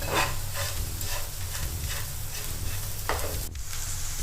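Ivy gourd fry with chili powder and salt is stirred in a hot pan, giving a continuous close sizzle with rough scraping strokes of the spoon throughout and one sharper knock near the end.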